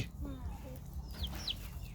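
Family-kept chickens clucking close by, a few short squawky calls over a low rumbling background, with no other sounds competing.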